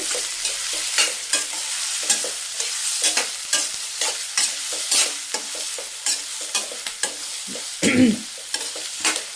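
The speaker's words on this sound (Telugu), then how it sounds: "ఉల్లిపాయ కూడా కొద్దిగా బ్రౌనిష్ కలర్లో వేగితేనే బాగుంటుంది" Onion and green chillies frying in a pan, a loud continuous sizzle broken by frequent scraping stirs of a spatula in an uneven rhythm, close and with no talking.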